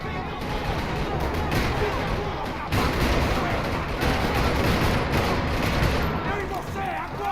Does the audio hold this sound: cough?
no